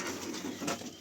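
Pigeons kept at home coo in a low, rolling murmur against a busy, hissy background, with the cooing running steadily throughout.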